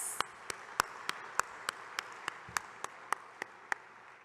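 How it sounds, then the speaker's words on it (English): A dozen sharp claps in a slow, steady rhythm, faint and fairly distant, at a conference, sounding like a small, sparse round of applause rather than a full crowd. "Can we have a big round of applause"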